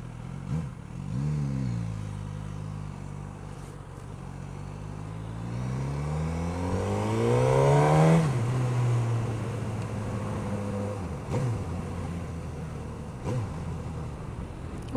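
A Suzuki GSX-S1000 motorcycle pulls away from traffic lights. Its engine note climbs steadily in pitch, peaks, then drops at a gear change before building again, loud and close, with no talking.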